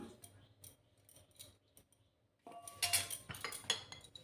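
Grated, finely chopped ginger tipped into a dish being cooked: quiet scattered utensil clinks, then a louder burst of clattering and sizzle-like hiss partway through that carries on to the end.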